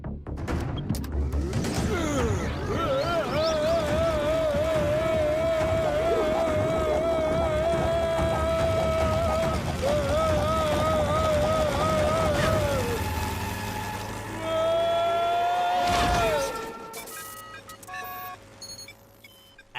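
A jet engine starting up in the Shaktimaan animated series: a sustained, wavering high whine over a low rumble that builds, dips and swells again, with voices speaking over it.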